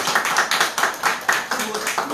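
A small audience at a film festival debate claps in a steady, fairly even rhythm, individual hand claps close and distinct throughout.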